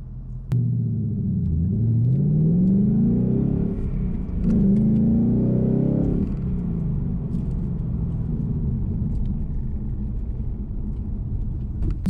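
Ford Mustang S550 (2015+) exhaust in sport mode with the factory sound tube fitted: a loud, close engine rumble that rises in two revving sweeps, then settles into a steady throaty idle.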